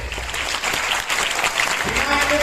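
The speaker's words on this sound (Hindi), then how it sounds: "तालियां बजाकर अथॉरिटीज को थैंक यू दें" Audience in an auditorium at a children's Ambedkar Jayanti program clapping to thank the authorities, continuous loud applause with a voice faintly audible near the end.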